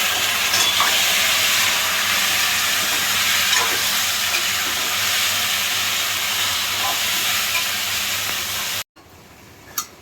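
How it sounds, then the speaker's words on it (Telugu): Steady, dense sizzling of chicken frying in hot oil with onions, loud and close, continuing for several seconds before cutting abruptly to a quieter background. "ఉల్లిపాయలు బాగా వేగిపోయాయి చికెన్ అయితే వేసేస్తున్నాము"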